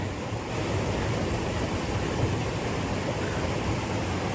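A steady, full rush of flowing water at the Rathtota bathing spot in Sri Lanka, continuous and fairly close, with no other sounds standing out.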